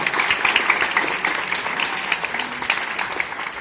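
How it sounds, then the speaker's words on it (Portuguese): Steady, dense applause from a school audience at a Student Day gathering at a military school, a loud continuous patter of many hands clapping throughout. "Vamos aplaudir."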